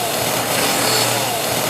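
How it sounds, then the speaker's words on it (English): Running chainsaws are juggled, their sharp, buzzing two-stroke engines whining steadily and loudly at close range in a short burst with no talk. "they are sharp, running chainsaws"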